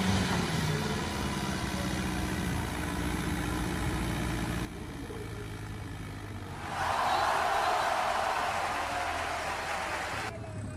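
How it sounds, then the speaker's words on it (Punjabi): An Arjun 605 tractor engine runs steadily nearby with a low, rough rumble that dips briefly, then swells louder for a few seconds before easing back. "ਇਹ ਟਰੈਕਟਰ ਨੂੰ ਅੱਗੇ ਨੂੰ ਮੈਂ ਜ਼ੋਰ ਲਾਉਂਦੇ ਅਕਸਰ ਇਹਨੂੰ ਦੇਖਦਾ ਆ ਇਹ ਆਵਾਜ਼ ਤਾਂ ਬਹੁਤ ਸੋਹਣੀ ਕੱਢਦਾ"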